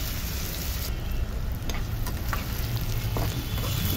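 Onions sizzling in a little oil in a pan make a dense, steady frying hiss, close up, with faint scrapes of stirring now and then and no voices.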